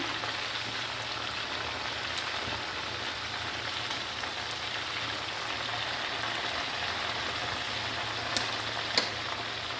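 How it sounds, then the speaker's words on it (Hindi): Marinated chicken pieces frying in a pan until golden, for a rice pulao, give off a steady, even sizzle like light rain, with a couple of small sharp pops near the end. "अब इसकी साइड चेंज करेंगे और इसको गोल्डन कलर देने तक मैं इसको फ्राई करूँगी।"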